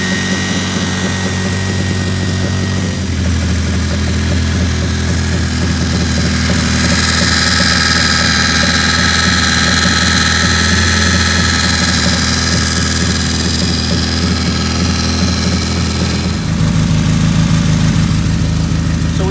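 An engine fitted with a MED belt drive idles with a steady, loud mechanical drone and deep rumble, shifting in tone partway through but continuing without pause.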